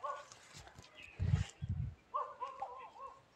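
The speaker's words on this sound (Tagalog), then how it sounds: "Tingnan yung aso yun." A dog barks twice in quick loud bursts nearby, with faint voices and chirps in the background before and after.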